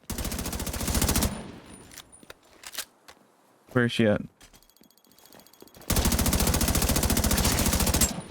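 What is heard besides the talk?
gunfire in the video game Tom Clancy's The Division 2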